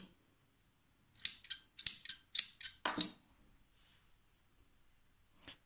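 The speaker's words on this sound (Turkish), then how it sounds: "Uzunca bir göz kararı kesiyorum." Scissors cut white sewing thread for a lavender bouquet craft: about half a dozen quick, crisp snips in a close burst, then near silence with one faint click at the end.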